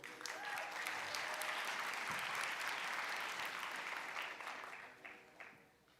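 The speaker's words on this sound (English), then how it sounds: "Give a round of applause for Dr. Harrell" A crowd at a graduation ceremony claps for a faculty member in a dense, steady wash of applause from many hands that holds for several seconds, then thins and fades, heard from some distance.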